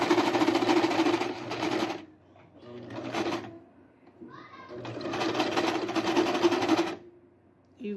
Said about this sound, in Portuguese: Eu vou passar a costura aqui